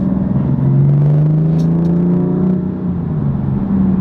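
A BMW M4 LCI Competition with its engine in Sport Plus mode holds a deep, steady harmonic drone at low revs, loud and close, with a slight dip and recovery partway through.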